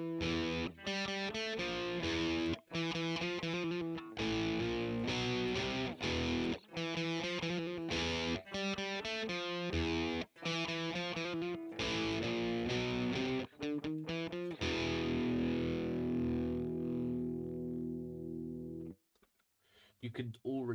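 Distorted electric guitar dialed toward a classic album tone through an amp with presence low and reverb off, loud chugging riffs with abrupt stops, ending on a long ringing chord that fades out.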